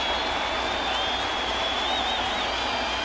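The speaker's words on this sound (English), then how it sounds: "A crowd that's been held down because of the inclement weather getting loud, looking for a strikeout" Baseball stadium crowd building toward a two-strike strikeout after a weather delay, a steady dense roar of cheering and applause sustained throughout, with a faint high whistle rising briefly in the middle.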